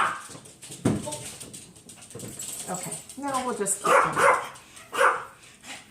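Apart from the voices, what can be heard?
dog barking and whimpering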